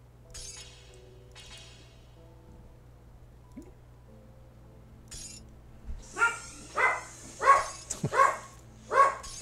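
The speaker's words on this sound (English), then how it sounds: "Who are you barking at?" After a quiet stretch with faint clinks, a dog barks five or six times in a loose rhythm, fairly close and moderately loud, with no talking.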